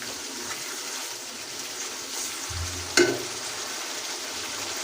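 Cumin powder roasts in a pan for chicken dum biryani, giving a steady soft frying hiss throughout with a single brief clink or scrape near the end.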